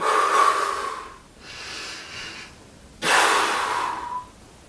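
Deep, forceful breaths in and out during a seated at-home shoulder exercise: a loud breathy exhale, a quieter inhale, then another strong exhale, close and clear with no talking.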